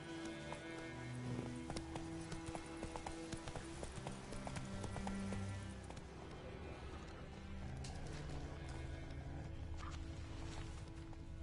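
Horse galloping in The Witcher 3 video game, a steady rhythmic clip-clop of hooves running continuously at moderate loudness under game ambience and a speaking voice.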